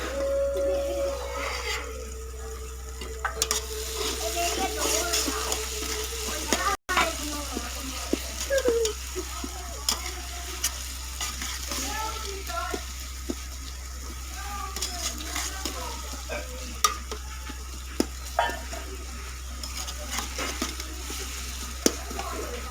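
Arbi (taro root) sabji cooks in a pan with soft, steady sizzling and occasional stirring clatters, while someone talks intermittently over a low constant hum.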